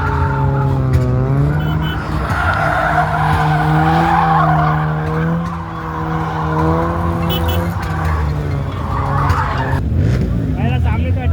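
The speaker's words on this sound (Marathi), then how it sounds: "लॅम्बोची ड्रिफ्ट मारताना बघणार आता" A Lamborghini drifting, its revving engine whining in a rising and falling pitch while tires squeal and skid continuously, loud and close, with crowd voices faintly mixed in.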